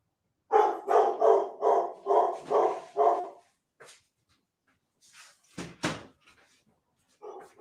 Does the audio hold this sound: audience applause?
no